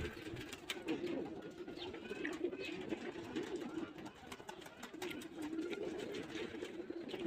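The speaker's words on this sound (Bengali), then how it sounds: "এখানে সবগুলোই কবুতর।" Pigeons kept in a loft coo in low, continuous murmurs close by, with many birds overlapping and occasional wing flutters and clicks.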